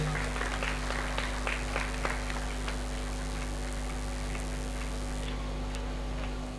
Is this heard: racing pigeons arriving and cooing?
no